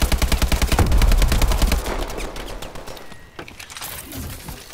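Automatic gunfire in Advanced Warfare multiplayer, a rapid, loud burst of evenly spaced shots lasting about two seconds before tailing off into quieter game ambience.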